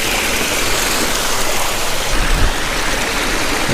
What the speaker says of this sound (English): back to the pondless waterfall